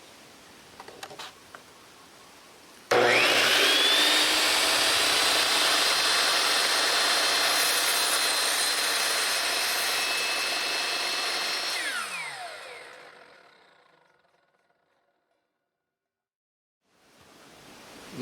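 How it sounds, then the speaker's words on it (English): A RIDGID R4123 miter saw starts with a sharp jump and whines loud and steady through a 48-degree bevel cut in wood. The motor winds down to silence, then another sound starts at the end. "Loosen the bevel knob, rotate the saw all the way over, tighten the bevel, and let's make this 48-degree cut."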